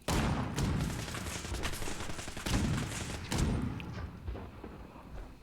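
Combat shotgun and other weapons firing in Fallout: New Vegas, a dense, loud burst of overlapping gunshots and thuds with several heavy blasts, easing off toward the end.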